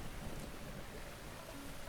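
Steady rain hisses in Zelda: Breath of the Wild, a constant dense wash of falling water with a faint low rumble beneath, even and uninterrupted throughout.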